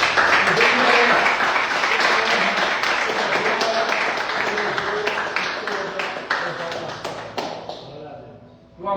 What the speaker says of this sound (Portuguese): Adore a Ele com as palmas.